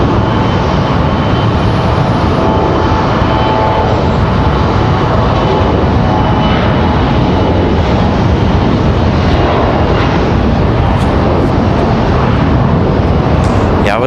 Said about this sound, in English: All right, PSA Airlines back on the move. They're getting ready to head back to Washington, D.C. via Ronald Reagan there.